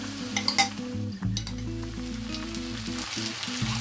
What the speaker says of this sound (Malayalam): നമ്മളവിടെ മാരിനേറ്റ് ചെയ്ത് വെച്ചിട്ടുള്ള മട്ടൺ കൂടി ഇതിലേക്ക് ചേർത്ത് കൊടുക്കാം